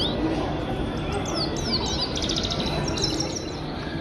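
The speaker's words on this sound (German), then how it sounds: "Die Iraner halten immer wieder Vögelchen in solchen Käfigen, damit sie singen" Caged songbirds chirp and trill in quick high sweeps over a dense, noisy background of crowd bustle in an Iranian bazaar.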